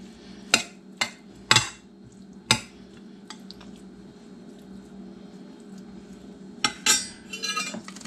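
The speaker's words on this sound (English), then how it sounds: "I'm going to stir in the mushrooms. Get them spread out there." Mushrooms being stirred into cooked meat in a pan for a manicotti casserole: a handful of sharp spoon-on-pan clinks and scrapes, close and fairly loud, spaced irregularly over a low hum, with a brief cluster of scraping near the end.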